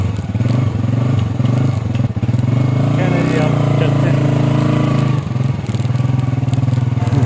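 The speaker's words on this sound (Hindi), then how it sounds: "चलो जी करते हैं स्टार्ट बाइक।" A motorcycle engine runs loud and close after starting, a steady low throbbing idle with rattling mechanical clatter and a brief rev, heard with someone talking over it.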